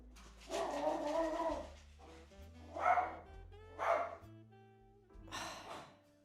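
A small yappy dog barks in several sharp bursts, fairly close and clear, with short gaps between the barks and no talking over them.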